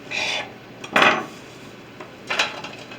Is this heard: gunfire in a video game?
no